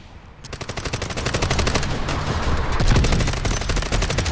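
Rapid automatic gunfire from the video game Delta Force, dense bursts of shots fired continuously and loudly for several seconds with no talk over them.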